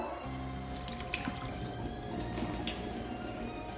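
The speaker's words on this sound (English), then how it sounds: "at this point you take the bread, you drain the water" Water drains and drips from soaked bread into a kitchen sink while making kebab, a steady trickling splash with irregular drips, close and fairly quiet, no talking.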